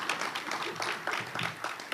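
Audience applause at a civic ceremony where a mayor signs an executive order, breaking out after a name is announced; a steady, moderately loud patter of many hands clapping that lasts about two seconds with no talking.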